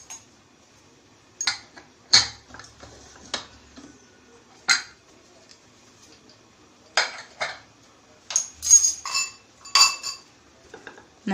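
A pressure cooker lid is taken off a pot of boiled beetroot after two whistles: scattered metallic clanks and clinks of lid and vessel, some sharp and close, several in quick succession toward the end, with quiet gaps between.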